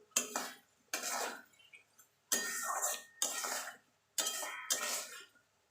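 Prawns coated in Kashmiri chili powder are stirred in a pan: a series of short, separate scraping and clinking bursts of a utensil against the pan, with quiet pauses between them.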